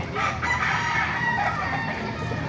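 Chickens and a rooster at a poultry market in Baliuag, Bulacan, a loud cock-a-doodle-doo crow over a dense background of clucking fowl, near and continuous.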